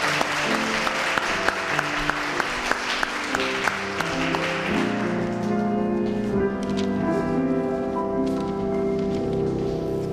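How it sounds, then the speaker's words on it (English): Audience applause at a pageant, a dense wash of clapping in the first half that fades into a sustained musical fanfare with layered tones, loud and continuous throughout. "A round of applause for Ms. Virginia Thompson."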